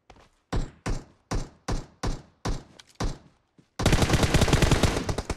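Gunfire in the video game PUBG Mobile: seven evenly spaced loud single shots ring out close by, followed by a dense burst of rapid automatic fire.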